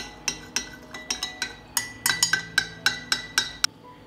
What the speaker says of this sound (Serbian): Sada ću 1 litar hladne vode dodati 1 supenu kašiku soli i